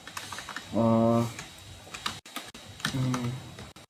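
A computer keyboard is typed on while entering text into an Excel VBA editor: quick, close, fairly loud key clicks come in bursts, with someone speaking in between and over them.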